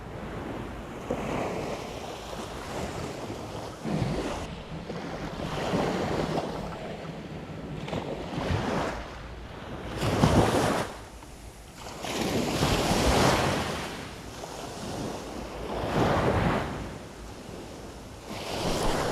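Strong sea waves break on the shore after rain, with wind buffeting the microphone; surges roll in every few seconds, loud and close, over a constant rushing wash.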